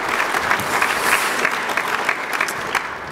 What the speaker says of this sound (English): Yeah, give Cyril a clap.